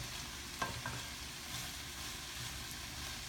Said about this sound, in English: you just keep adding and stir frying as much as you can